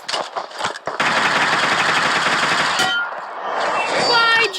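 Gunfire in the video game PUBG: a few sharp shots, then a long, rapid burst of automatic fire, followed by metallic clanging and ringing tones near the end.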